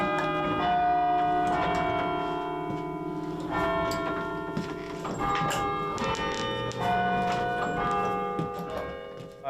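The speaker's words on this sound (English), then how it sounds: "they ring those bells so that all of downtown and all of Regina can hear" The church bells of Knox Metropolitan Church in downtown Regina ring out loud and full, with overlapping tuned strikes in a steady, repeating sequence. Long ringing tones sustain and blend between the strikes.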